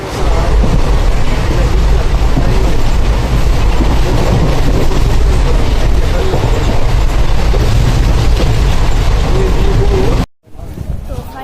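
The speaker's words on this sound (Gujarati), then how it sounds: "તો મિત્રો ફાઇનલ બેસી ગયા ટ્રેનમાં" Steady loud rumble and rattle of a moving train heard from inside a carriage, continuous for most of the span before a brief cutoff near the end.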